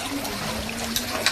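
Rain falling outside during cooking at home, heard as a steady close wash of dripping and trickling water with a faint hum underneath and a few brief splashes, no talk.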